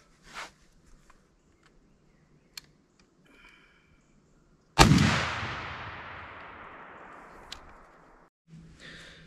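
A single 12 gauge shotgun blast, Winchester Longbeard XR 3-inch 1¾ ounce load, cracks loudly after a few faint clicks and shuffles, its boom rolling away in a long fading echo before quiet handling noise returns.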